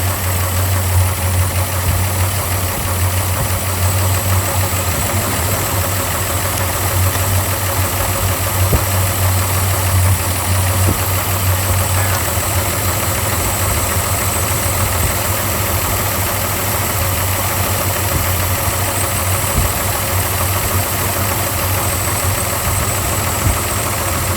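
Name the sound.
1969 Plymouth Barracuda 225 engine idling, pinging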